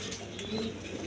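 Large pigeons kept for sale cooing softly in a low, rolling murmur, one brief close coo standing out over steady background noise.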